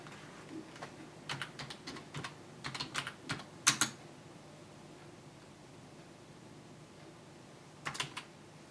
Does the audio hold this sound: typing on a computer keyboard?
yes